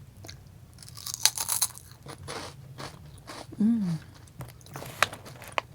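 Someone bites and chews crunchy, spicy chili-curry Indian snacks up close, with crisp irregular crunches and a brief murmur of enjoyment.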